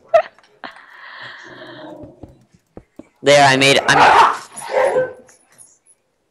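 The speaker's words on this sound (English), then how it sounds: "your dogs sound like they're a bunch of bozos" Dogs bark in a loud, rapid burst of several yaps, preceded by a thin whining yelp, with a person talking briefly at the start.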